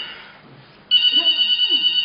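A telephone rings on stage during a theatre comedy, a loud, steady electronic trill that cuts in abruptly after faint background murmur and carries on without a break.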